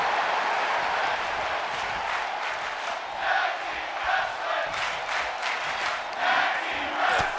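A large video game wrestling crowd at Madison Square Garden in WWE 2K25 roars and cheers continuously, swelling in loud waves, with no clear speech over it.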